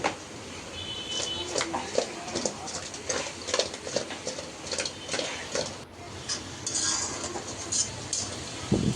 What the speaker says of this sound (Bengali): এখন মশলাটা ভালোভাবে কষিয়ে নিচ্ছে